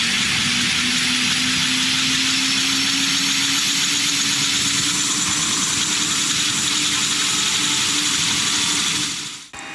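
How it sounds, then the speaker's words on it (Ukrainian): A military medical evacuation helicopter's engine warms up before takeoff, a steady loud mechanical whine and droning hum that holds constant for several seconds, then cuts off abruptly at the end. "Пілоти перевіряють та прогрівають судно, і ми піднімаємось в повітря."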